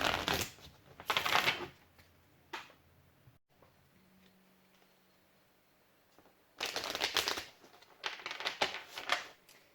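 Amenti Oracle cards being shuffled in close, crisp riffling bursts, two at the start and a longer run near the end, with quiet pauses between.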